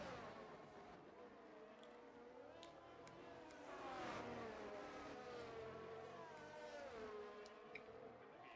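Race cars in a sim racing game at Imola drone past faintly, their engine notes rising and falling as they pass, layered together in a continuous distant hum.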